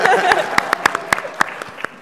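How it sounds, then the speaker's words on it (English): Audience at a live PAX East 2024 convention panel clapping in a short burst, a handful of sharp distinct claps standing out as the applause thins and fades within two seconds. "Yeah, clap that."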